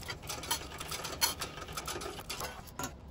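A sewing machine stitches down a bag seam, running steadily with a fast rhythmic needle patter and mechanical ticking, close and continuous throughout with no talking.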